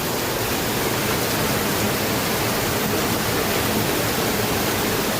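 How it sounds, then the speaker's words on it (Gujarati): Heavy rain pouring down in a village, a dense, loud, unbroken hiss of falling water that fills the whole stretch with no talking. "અમારા ગામમાં વરસાદ બહુ જોરદાર ચાલુ થઈ ગયો છે"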